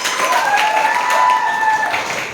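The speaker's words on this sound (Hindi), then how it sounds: "जोड़ो ताली" Audience applause at a Q&A session, a brief burst of clapping that swells and holds steady for a couple of seconds.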